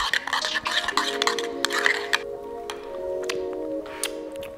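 Spoon scraping and clinking in a bowl of egg-free mayonnaise being mixed with chopped garlic and dried mixed herbs, a steady run of light clicks and taps over a faint background tone.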